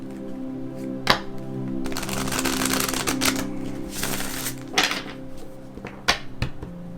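Tarot cards being shuffled by hand give sharp riffling bursts and rustles with several distinct snaps and clatters across seven seconds, close and fairly loud, with no voices.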